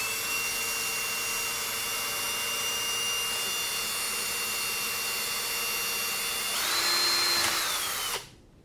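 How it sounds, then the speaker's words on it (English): A power drill bores steadily into a LiPo battery base, a continuous close, loud whine that rises in pitch near the end before cutting off abruptly. "and let's just drill it very easy."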